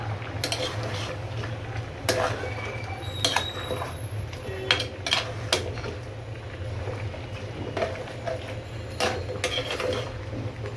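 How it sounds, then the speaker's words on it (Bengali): Head meat curry cooks in a pot while a spoon stirs it, with intermittent metallic clinks and scrapes against the pot and a lid being set on top, all over a steady low background hum. "এভাবে নেড়ে চেড়ে আবার ঢাকনা দিয়ে ঢেকে দিয়েছি।"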